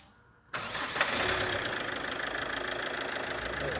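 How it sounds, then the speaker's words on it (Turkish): A Chevrolet Captiva engine cranks and catches on its first start after a camshaft replacement, firing abruptly and settling into a steady, close, loud idle with a faint rhythmic ticking. "İlk marşımızı yaptık, aracımızı çalıştırdık."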